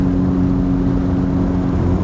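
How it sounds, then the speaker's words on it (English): A 2018 Honda Civic Si engine hums loud and close with a steady droning tone, revving slightly as the gears are shifted with rev matching. "Some rev matching right there."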